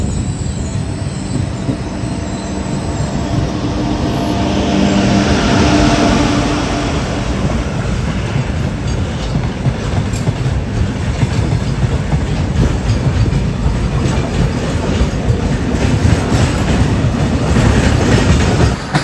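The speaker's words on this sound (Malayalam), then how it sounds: "അലുമിന കൊണ്ടുപോകുന്നൊരു ഗുഡ്സ് ട്രെയിനാണ് കാണുന്നത് കേട്ടോ." A goods train carrying alumina passes close by, its wagons rumbling with continuous clickety-clack over the rails and occasional wheel squeal, loud and sustained with no talking.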